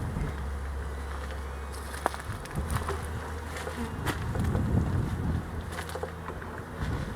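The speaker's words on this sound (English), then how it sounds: "Bees are not acting like there's a storm coming." Honeybees buzzing steadily as they fly around an outdoor hive before a storm, a dense close drone that continues throughout with light wind noise.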